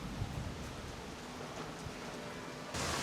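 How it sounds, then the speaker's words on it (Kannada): Rain falling steadily outdoors, a soft even hiss of drops at moderate distance, slightly louder in the final moment, with no talk. "ಮಳೆ ಬರ್ಲಿಕ್ಕತ್ತದ"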